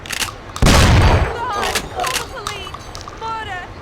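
Gunfire in the Mafia: City of Lost Heaven video game, one heavy blast followed by scattered shots and clatter, with shouting voices through the middle and end.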